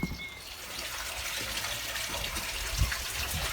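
Water pours steadily into a Western Red Cedar hot tub, a constant close rushing wash with one brief low knock near the end and no speech.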